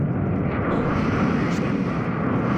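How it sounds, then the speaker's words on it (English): A Harrier jet flying in during a Modern Warfare 2 video game match gives a steady, loud, dense engine roar that holds evenly throughout without easing. "Heads up. Harrier's inbound."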